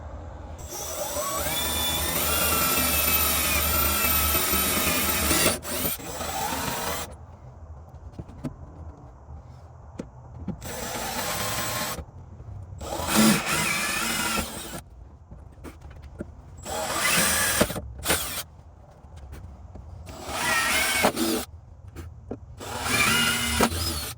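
A power drill whines loudly in repeated bursts, a long run first and then several shorter ones separated by pauses, drilling holes for a fuel cell access hatch on a Jeep Wrangler JK.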